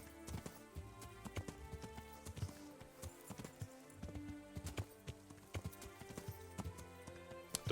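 Horse hooves clip-clop in Kingdom Come: Deliverance, a steady run of hoofbeats on the ground along a stream with faint ambient game sound behind, moderately close and even in rhythm.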